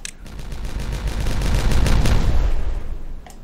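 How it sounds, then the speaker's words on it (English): Dynamite detonating in the video game Timberborn, a loud rolling rumble with crackling bursts that builds and sustains for a few seconds before cutting off. "We should be ready to detonate some dynamite."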